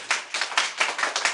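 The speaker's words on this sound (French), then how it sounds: "vous pouvez l'encourager, vous pouvez l'applaudir" A small group clapping in a science class on states of matter, about six or seven separate bursts in a loose rhythm, close and moderately loud with no talking.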